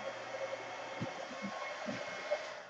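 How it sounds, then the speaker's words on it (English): A heat gun blows steadily, a continuous airy whoosh close by, used while working with golden gesso and colorwash; a few soft low thumps sound over it. "There goes the heat gun, which is turned on."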